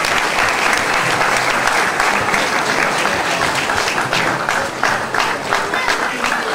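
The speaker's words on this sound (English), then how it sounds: "Give them a big round of applause" Loud, dense applause from the audience after an adults' drama at a Gaura Poornima celebration, steady throughout with some crowd voices mixed in.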